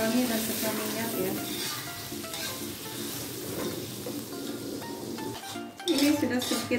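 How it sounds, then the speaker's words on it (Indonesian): Blended spice paste sautéing in hot oil, with a steady close sizzle and frying hiss and occasional clinks of a utensil against the pan, plus a brief louder burst of sizzling near the end. "Tumis sampai wangi dan pecah minyak ya."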